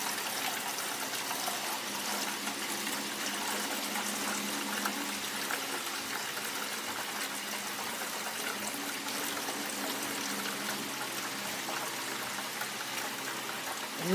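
Water trickles steadily and continuously as something is rinsed in clean water, a constant watery wash with no talking.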